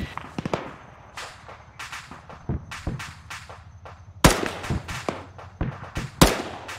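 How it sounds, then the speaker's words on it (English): Incoming gunfire in the Arma military shooter: a rapid string of sharp cracks and pops at varied distances, some close and loud, others distant, with two heavy nearby impacts punctuating the steady shooting. "Still taking shots from the northeast."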